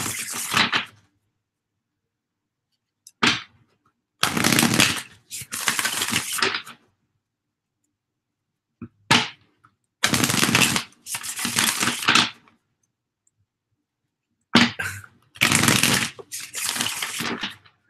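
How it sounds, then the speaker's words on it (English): Cards riffle-shuffled in several bursts, each a crisp flurry of a second or two, separated by short quiet pauses; close and fairly loud, no talking. "I love the way this deck shuffles too."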